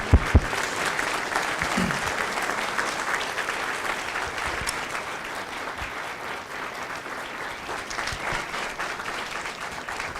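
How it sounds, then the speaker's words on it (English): Loud, sustained audience applause honouring Marine veterans at a recruit graduation at MCRD San Diego, opening with a couple of sharp claps and then a dense, steady roar of clapping that stays strong to the end. "Ladies and gentlemen, a round of applause for their dedicated service to Corps and country."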